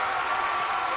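Dense, steady roar of a loud crowd cheering and clapping at a high school JV championship basketball game between Ramaz and Flatbush, filling the whole moment with no break.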